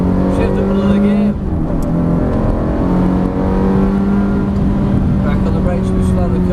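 A Ferrari engine pulls hard and steady uphill, its pitch climbing, dipping briefly at a gear change, then rising again, loud and close.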